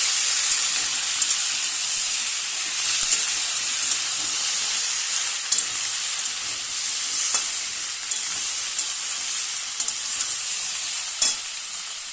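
Steady, bright sizzling and hissing of vegetable pulao frying in ghee with ground cumin and ginger paste, with occasional stirring scrapes and small pops.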